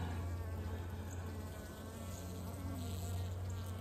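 A pinned honeybee buzzes steadily and close up during a hive inspection, a continuous droning hum with no talk over it.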